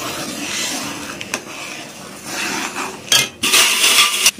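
Spoon stirring semolina for rava kesari in a pan, with soft scraping strokes and a few sharper metallic clinks toward the end, close and moderately loud with no talk.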